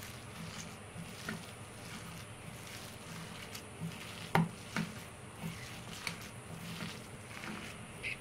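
Chopped onions fry in a pan while being stirred for a drumstick-leaf dish, giving a faint, steady sizzle broken by occasional soft clicks and scrapes of the spoon.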